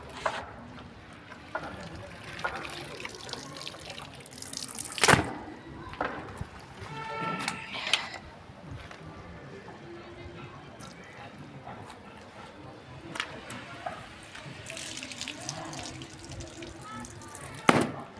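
Water splashing and sloshing in a basin as clothes are washed by hand with detergent, irregular wet bursts and drips close by, with people talking in between.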